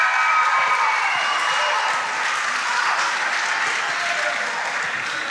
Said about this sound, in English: And KNUST Basic JHS, 16 points. Please clap for them.